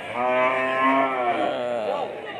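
A cow moos once in a long, drawn-out low call that rises and falls, close and loud, with no other sounds.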